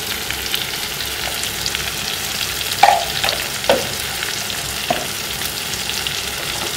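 Ground spices sizzle and fry in a pan after salt and turmeric go in, with a steady close crackle and a few louder stirring scrapes and pops standing out partway through.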